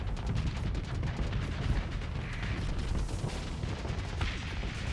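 Torpedoes launch from a spaceship during combat in the space game Starsector: a dense, continuous roar of booming, gunfire-like blasts that holds steady and loud for several seconds.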